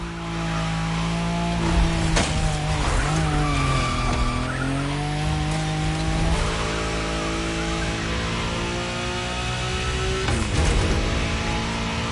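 A car in the racing game The Crew Motorfest drifts through a long slide, tyres skidding and squealing over a loud, continuous engine roar that dips and climbs with gear changes, with no voices.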